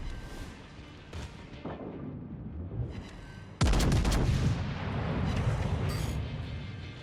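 Warship secondary guns in World of Warships Legends blast in a game battle: scattered booms at first, then a sudden loud salvo that rolls into sustained, heavy rumbling fire.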